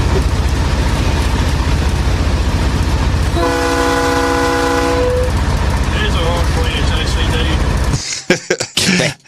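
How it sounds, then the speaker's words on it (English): A conductor sounds a train horn on a train in Victoria, one long loud steady toot over the continuous rumble of the moving train, with clicks and handling noise at the end. "That's a horn. That's a nice horn."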